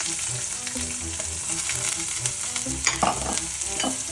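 Chilies, curry leaves and onions fry in a pan of spluttering oil, a strong continuous sizzle with scraping stirs and a few sharper crackles near the end, close and steady.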